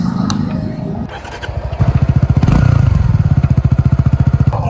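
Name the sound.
Suzuki V-Strom 250 motorcycle engine running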